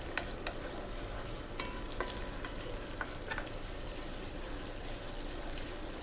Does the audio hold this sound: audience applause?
no